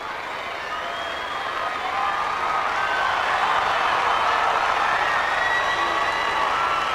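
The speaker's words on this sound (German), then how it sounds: "Die Fans jubeln." Tennis fans cheer and applaud at the 1989 Australian Open as a player gets back to his feet. A broad, loud crowd roar with clapping swells after the first two seconds and stays strong, with a few whistles rising above it.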